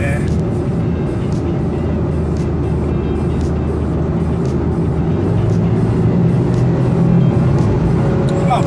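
Basic-grade Honda N-VAN kei van climbing a slope at full throttle, a steady loud engine drone with road and tyre noise from inside the cabin, continuous throughout.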